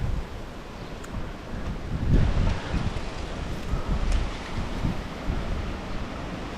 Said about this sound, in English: As you can see here, it's very windy.